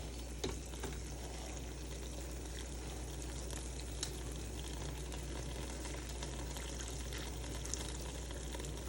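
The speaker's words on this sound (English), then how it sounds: "All right, so that's sizzling." Steady, close sizzling and crackling of lobster frying on a hot plate with macaroni, continuous throughout with occasional small pops.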